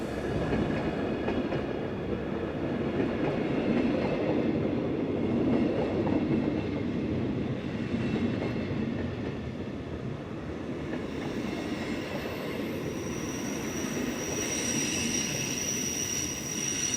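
The Glacier Express rolls into St. Moritz station in the Swiss Alps with a steady, heavy rumble of wheels on track and faint clatter. A thin metallic squeal rises toward the end as the train slows, and no one speaks.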